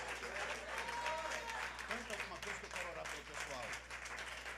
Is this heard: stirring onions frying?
no